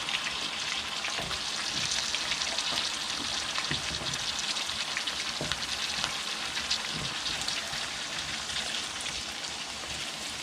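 Pieces of pork leg brown in a hot pan alongside carrots, giving a steady, even sizzle like light rain that holds for about ten seconds with faint stirring and nobody speaking.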